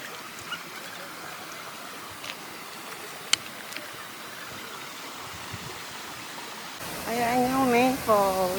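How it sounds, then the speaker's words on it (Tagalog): Waterfall on Qui Feng stream in Sai Kung, Hong Kong, gives a steady, even rush of falling water throughout, with a voice talking over it near the end. "Ayan yung main falls. First waterfall."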